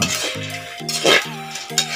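Peanuts being cooked and stirred in a pan at home, with steady close scraping and stirring strokes over a soft sizzle, repeating in short bursts.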